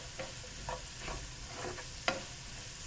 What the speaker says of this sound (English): About a cup and a half of mushrooms go in next. We'll give it a quick mix.